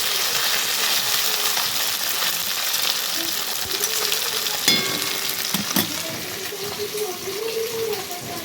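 Betki fish pieces frying in hot oil, a steady close sizzle with crackles and a few metallic clinks from handling the fish, the sound staying fairly even throughout.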